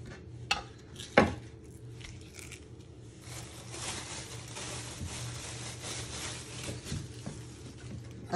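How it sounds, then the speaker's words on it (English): A kitchen knife chops the ends off spring onions on a cutting board, giving a couple of sharp knocks early on, then softer scraping and handling noises. "So you're first going to prep your spring onions. You just want to chop the top and the bottom end."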